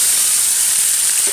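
Mustard seeds and shallots frying in hot oil for a green banana flower and moong dal dish, a close, loud, unbroken hiss of sizzling.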